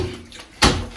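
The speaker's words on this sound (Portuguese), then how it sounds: "Essa chupeta, não sei o que eles fizeram. Tá vazando água, viu?" Water leaks from a nipple drinker in a pig pen, with a faint trickle that turns into a sudden, louder splashing gush partway through.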